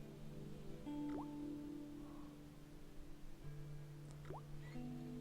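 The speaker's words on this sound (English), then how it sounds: "I shut off the faucet as tight as I could, but it kept on dripping." A rusty faucet in a video game drips slowly, a few faint plinking drops landing over a low steady hum.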